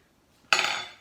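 A metal spoon strikes a glass jam jar once, giving a sudden bright clink with a ringing tail that fades over about half a second, close by in an otherwise quiet room.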